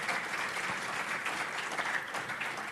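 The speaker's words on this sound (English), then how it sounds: "let's clap." Steady applause from a meeting audience honoring a departing foundation board member, dense continuous clapping at even loudness throughout with no voices standing out.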